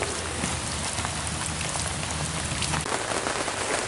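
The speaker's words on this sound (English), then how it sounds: "I'm gonna get out of the rain now" Rain pours steadily near a camper by a creek, a dense, even hiss of drops hitting surfaces that holds constant throughout with no voices.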